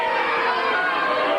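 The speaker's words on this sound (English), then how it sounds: "Listen to that crowd." A large arena crowd at a wrestling match with Matilda roars and jeers as one steady, loud, dense wash of voices, no single call standing out.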